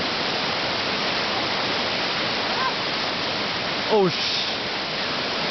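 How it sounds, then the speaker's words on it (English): A fast-flowing jungle river at Sungei Tahan, swollen after rain, rushes with a loud, dense, steady roar like a waterfall; a brief voice exclamation breaks through near the end. "The river flows faster than last afternoon"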